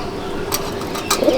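Medium-sized pigeons, a mated male and female, in a loft in Garia, Kolkata; a brief low coo rises near the end over a steady background hum and faint rustling.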